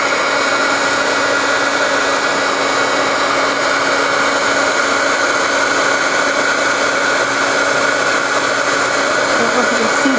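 A heat tool blows a steady, loud whooshing roar with no break, melting WOW embossing powder during heat embossing.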